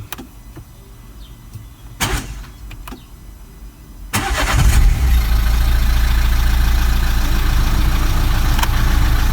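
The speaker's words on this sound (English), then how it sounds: "Let's start the car." A Renault Megane mk3 engine cranks and catches after a few faint clicks, then settles into a loud, steady idle close by with no talking, freshly started after an oil change.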